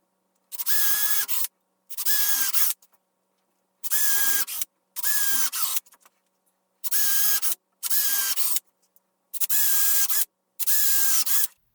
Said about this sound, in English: So then I'll be able to pre-drill the other holes.